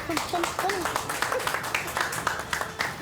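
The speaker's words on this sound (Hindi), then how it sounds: "ए ताली मारो रे, ताली मारो, ताली" A small group of people claps in quick, uneven bursts, the claps sounding close while people keep talking over them.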